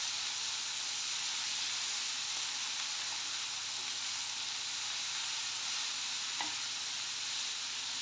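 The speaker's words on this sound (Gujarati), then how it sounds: "થોડું હલાવી લઈશું." A radish and tomato curry sizzles in a pan with a steady, hissy fry, punctuated by one faint scrape of stirring near the end.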